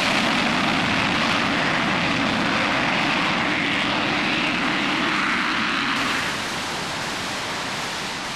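Roaring J-57 jet engine running with afterburner, a dense, loud, sustained broadband rumble and hiss that holds steady and eases slightly toward the end.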